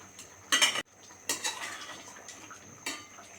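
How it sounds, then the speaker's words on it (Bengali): A spoon stirs mutton curry with large potato chunks in a pot, giving a few short bursts of metallic scraping and clinking with brief pauses between strokes, close and clear. "তো ভালো করে একটু নেড়ে চেড়ে মিক্স করে দিচ্ছে"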